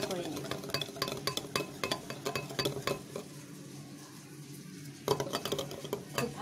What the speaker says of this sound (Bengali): তেলটা দিয়ে আমি আরও কিছুক্ষণ এভাবে করে ব্লেন্ড করে নেব।